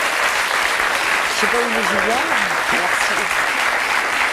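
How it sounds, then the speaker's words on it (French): A studio audience claps steadily at a French talk show, giving a dense, even wash of applause while a voice speaks briefly over it. "on peut l'applaudir très fort"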